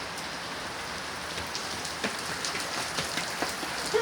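Steady rain falling on a hard surface, with a dense hiss and scattered nearby drops ticking sharply and growing a little louder toward the end.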